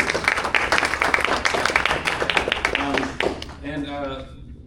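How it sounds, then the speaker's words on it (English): Audience applause for a man being thanked at a union event on AI data centers, a steady wash of clapping from a crowd that fades out as a voice begins speaking near the end. "So again, applaud that man and thank him."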